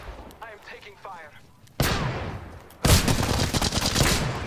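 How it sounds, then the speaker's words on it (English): Heavy gunfire in Apex Legends erupts in two loud booming bursts after brief talking, the second sustained and rumbling close by. "I am taking fire."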